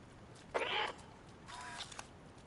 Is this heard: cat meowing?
yes